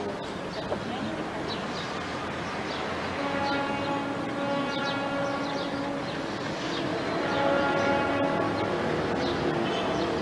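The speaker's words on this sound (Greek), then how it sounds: "Πρώτα ακούστηκε το σφύρισμα και η μηχανή που ανταμετούσε τσακ τσουκ." A train with a whistling engine pulls into a station, its low rumble and steady clatter building over about ten seconds while a horn-like tone sounds, fairly distant and continuous.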